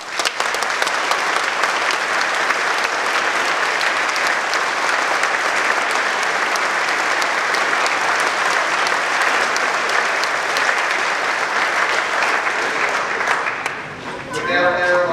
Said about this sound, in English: I would like for all of us to give a round of applause to all the parents that are with us today.